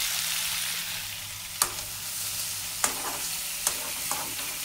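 Potatoes roast and fry in a pan for a traditional GSB Konkani potato curry, giving a steady close sizzle broken by four sharp scraping stirs of a spoon against the pan; no one speaks.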